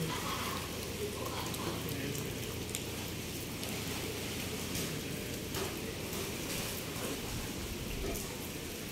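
Steady rain falls outdoors, a continuous hiss of drops on surfaces, even and moderately loud throughout.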